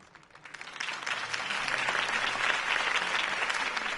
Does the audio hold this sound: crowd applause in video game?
yes